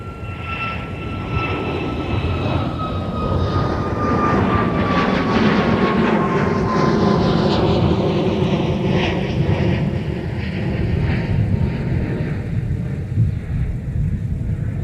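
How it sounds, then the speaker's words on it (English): An airliner takes off from runway 30 right at Minneapolis–St. Paul airport, a loud sustained jet engine roar with a falling whine, steady and close throughout. "runway 30 right, clear for takeoff."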